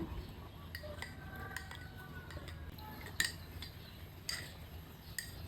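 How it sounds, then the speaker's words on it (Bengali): A spoon stirs custard powder into cold milk, tapping and clinking against the bowl in quiet, irregular chinks over a soft stirring rustle, with no one speaking. "এর মধ্যে আমি 1 চামচ কাস্টার্ড পাউডার দিয়ে গুলিয়ে নেব"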